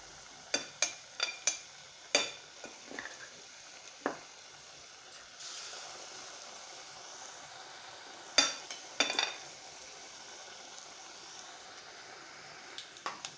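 Akra batter frying in hot oil in a home kitchen gives a soft steady sizzle, punctuated by sharp clicks and taps of a utensil against the pot, with no one talking.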